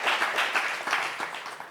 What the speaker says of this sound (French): C'est quoi ce public, en fait, qui applaudit Jamin?